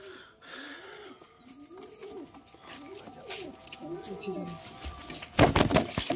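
Pink-eyed Giribaj pigeons, a male and a female, coo softly and repeatedly at close range, with rustling and a brief burst of flapping or shuffling near the end.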